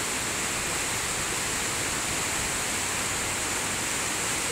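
Loud, constant broadband rush of water, like a waterfall or fast stream, steady and unbroken throughout with no voices.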